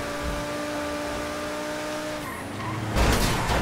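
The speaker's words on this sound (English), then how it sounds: "Oh my god, that was a bad crash." A fast car skids with squealing tires on a highway in GTA 5, the screech sliding down in pitch before a loud, broad crash impact near the end.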